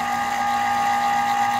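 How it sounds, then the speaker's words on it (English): Electric gear motor, model 52JE12 reduced to 6 RPM, driving a pig roasting rotisserie, giving a steady close mechanical hum with a constant tone throughout and no pauses. "The spin is super, so fast right here, but it's reduced to the gear motor."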